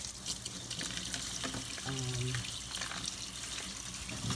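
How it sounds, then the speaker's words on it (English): Water runs from a kitchen tap during raw chicken prep, a steady close hiss across the whole stretch, with a brief voice partway through. "I'm going to run the water a little bit."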